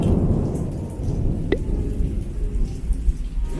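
Heavy rain pouring at the Port Orleans French Quarter resort at Walt Disney World, a steady close hiss of drops on surfaces with thunder rumbling underneath, continuous and fairly loud throughout, without speech.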